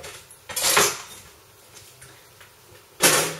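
Ceramic plate clattering as it is taken from a kitchen cupboard, two short bright clinks about two and a half seconds apart, close and loud against a quiet room.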